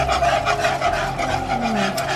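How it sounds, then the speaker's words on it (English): Flour and pepper are whisked into pork chop pan drippings to make gravy, giving a close, continuous scraping and rasping with a quick rhythmic swish. "I'm going to whisk this together."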